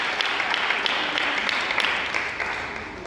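A crowd at a youth church challenge event claps and applauds the candidates, a steady wash of many hands that fades slightly toward the end.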